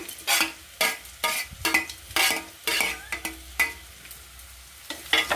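Roasted potatoes and boiled bitter gourd fry with browned onions in a pan, loud close sizzling bursts as a spoon scrapes and turns them in rhythmic strokes, with occasional metallic clinks between stirs.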